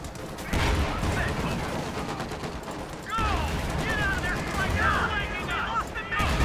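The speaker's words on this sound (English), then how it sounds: "Oh, there's another anti tank gun." Dense battlefield gunfire from the Company of Heroes 2: Ardennes Assault war strategy game, including anti-tank gun fire, with sustained shots and booms throughout, a brief dip near the middle, and faint game voices mixed in.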